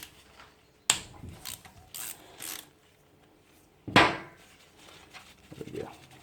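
A ratchet undoes a tensioner mounting bolt on a Honda V-twin engine during cylinder head removal, with a few sharp close clicks and two louder metallic strikes in a quiet workshop.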